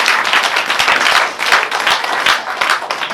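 A church congregation claps for Jesus during a Swahili sermon, with dense, rhythmic applause from many hands filling the room.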